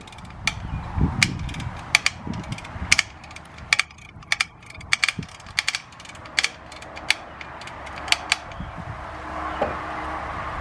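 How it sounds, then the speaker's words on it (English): Case 580 Super L backhoe stabilizer cylinder with its piston moving in gives a series of sharp metallic clicks and ratcheting ticks at irregular intervals over a low, quiet background. "There's the piston moving in now."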